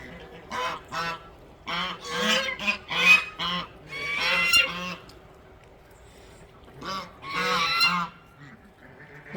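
Several geese honk loudly nearby in repeated bursts, pausing briefly before another noisy round of honking.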